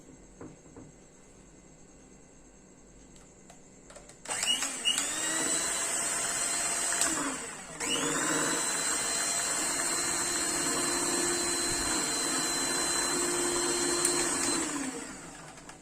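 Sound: whisking the ice-apple dessert mixture

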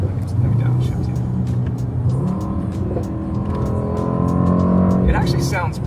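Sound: Ducati Panigale V4R motorcycle engine downshifting

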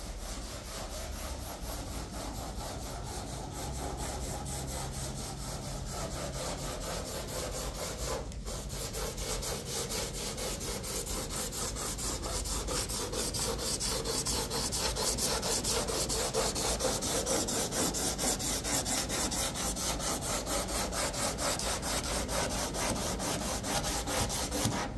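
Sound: sanding 1963 Buick Riviera car body with 100 grit

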